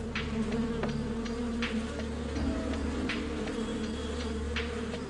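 A steady insect buzz drones throughout, with occasional brief higher flickers over a constant low hum, like bees swarming close by.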